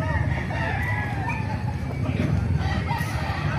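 A Gilmore Hatch gamefowl rooster, 18 months old, crows amid a busy Bocaue market, its calls rising over clucking from other fowl and a murmuring crowd.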